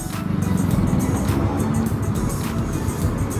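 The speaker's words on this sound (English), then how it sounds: "I'm in the traffic now" Steady road traffic surrounds a Royal Enfield Bullet 500 riding through town, a dense continuous rumble of engines and wind noise, loud and close throughout.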